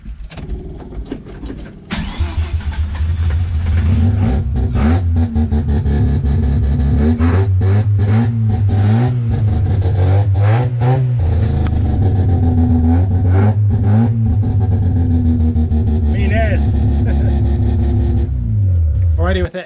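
A home-built 13B rotary engine in a budget car starts up and revs repeatedly, with loud rising and falling engine notes close by and a voice talking now and then over it.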